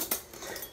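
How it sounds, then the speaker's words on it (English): A metal spoon clinks against a glass while stirring chocolate milk, giving a couple of sharp, close clinks followed by softer scraping swirls, brief and alone without talk. "And we're mixing the chocolate milk."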